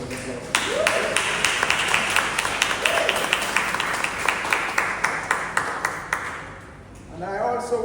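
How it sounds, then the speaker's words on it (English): Audience clapping for a 17th centenarian at a council on ageing annual general meeting in Dominica, a steady run of claps from a modest crowd indoors that thins toward the end. "Give our 17th centenarian a round of applause."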